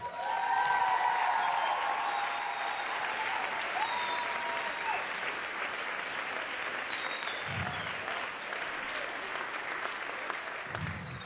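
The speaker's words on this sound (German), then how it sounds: "Das ist nochmal ein riesen Applaus wert." Steady, dense applause fills the hall from a talent show audience at the Mikrofon 2017 contest and holds for the whole stretch.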